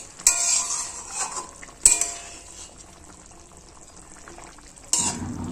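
Fried bata fish simmers in a tangy raw mango curry in a pan, a low bubbling hiss broken by three sharp clacks of a utensil against the pan, with no talk.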